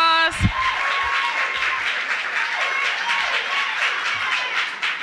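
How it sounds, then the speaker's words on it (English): Audience at an Emancipation Day breakfast gives a steady round of applause that fills the room, dense clapping holding at an even level after a brief voice at the start. "Give her a big round of applause."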